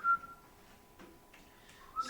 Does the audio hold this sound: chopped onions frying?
no